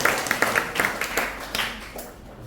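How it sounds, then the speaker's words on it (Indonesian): A youth Christmas celebration audience at a church event claps in a short burst of scattered, uneven hand claps that thin out and fade within a couple of seconds. "berikan tepuk tangan dong"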